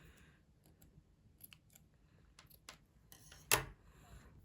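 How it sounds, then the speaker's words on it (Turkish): Scissors cutting yarn during knitting, heard as faint soft snips and small handling clicks, with one sharper, louder cut near the end in a quiet room. "Burada ipimi kesiyorum artık."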